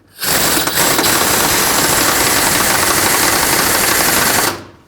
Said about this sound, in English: tighten up this bottom one on both sides, then the top one